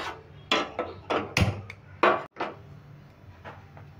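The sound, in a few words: wok being placed on the gas stove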